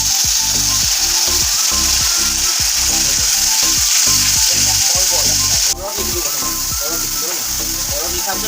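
Onions and spices fry loudly in a pan as water is added, a dense close hiss over rhythmic scraping and stirring that drops abruptly near the end before the sizzle resumes.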